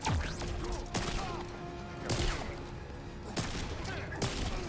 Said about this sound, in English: Gunshots just keeping Hero Killer in check.